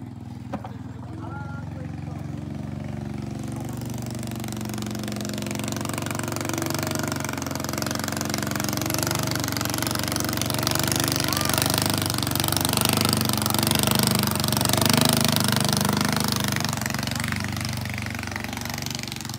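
A motorcycle engine idles and runs steadily through its exhaust, a constant rumbling drone with a faint rattly texture, while a voice talks over it.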